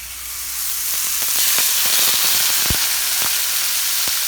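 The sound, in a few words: palomilla steak searing in smoking vegetable oil in pan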